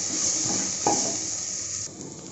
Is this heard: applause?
no